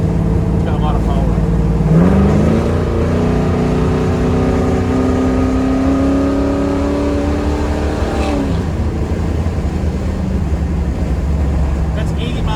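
A 1967 Camaro with a 421 small block engine cruises at about 80 mph as the throttle is eased in, its loud, steady engine drone rising smoothly in pitch over constant road and wind noise.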